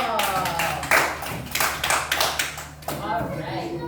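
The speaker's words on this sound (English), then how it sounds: "Everyone give yourself a hand clap." Second-grade children in a classroom clap their hands briefly together, a few bursts of clapping mixed with chatter and voices over a steady background hum.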